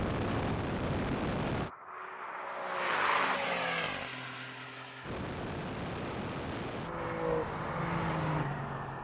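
Alfa Romeo Giulia (GTA or Quadrifoglio) accelerating hard with wheelspin during a drag race, loud broadband engine roar with rising harmonic sweeps as it revs through gears, continuous and close.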